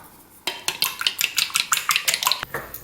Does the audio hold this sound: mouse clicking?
no